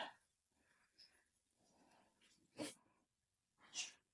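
A dog sniffs, breathes and lets out short whimpering snuffles indoors, close and fairly quiet, with a couple of sharper snorts or sneezes standing out near the end.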